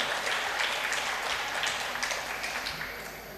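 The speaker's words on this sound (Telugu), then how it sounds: "గట్టిగా చప్పట్లు కొట్టి గట్టిగా దేవుని మహిమ పరుద్దాం" A church congregation applauds loudly in praise during a sermon, with a dense burst of clapping that fades slightly toward the end.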